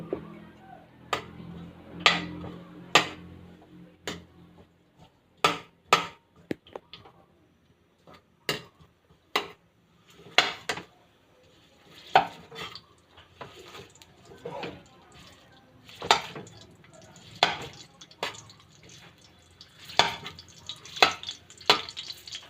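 Ginger sautéed in a pan while a spatula scrapes and taps, giving sharp, irregular clacks over a soft, low sizzle that runs throughout, close by and without talk.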